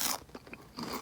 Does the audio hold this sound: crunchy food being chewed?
yes